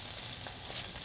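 Red onion and apples cook down together in a pan, a soft, steady sizzle with faint crackles, close but quiet and brief, with no voices.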